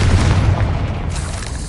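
A Confringo explosion spell in Hogwarts Legacy: a loud, deep booming blast with a rumbling low end that fades gradually over under two seconds.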